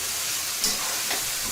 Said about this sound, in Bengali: মশলাটা বেশ ভাজা ভাজা হচ্ছে